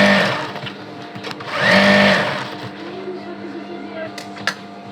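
A sewing machine stitches fabric pieces together for a petticoat, one short whirring run of the motor in the middle with quieter mechanical clicks around it, and a voice talking over it.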